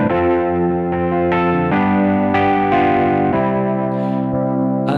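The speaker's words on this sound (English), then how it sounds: "You can hear a little bit of distortion, bit of overdrive on there, on that particular one." A Kawai ES920 digital piano played through a distortion overdrive effect, loud sustained gritty chords changing every half second or so, with no talking.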